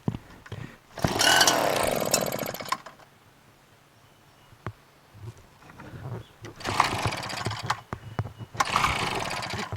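A Craftsman LT1000 lawn tractor, with a seized mower deck, cranks and turns over in two loud, rough mechanical bursts separated by a quieter pause.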